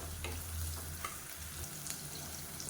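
Sliced large onions with a little salt sizzle quietly in a pan, a soft steady frying hiss broken by a few light stirring clicks and scrapes, with no talk.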